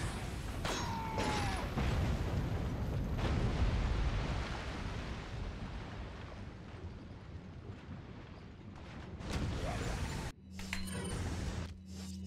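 Flash grenades go off in Resident Evil 4, giving a broad roaring blast and rushing debris noise that swells over the first few seconds, then another burst near the end followed by a low droning hum.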